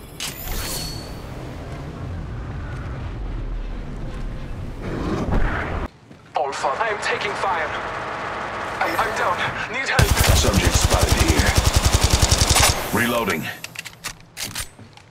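Gunfire rattles in an Apex Legends Mobile match, with scattered shots followed by a loud sustained automatic burst, mixed with game effects and a player talking.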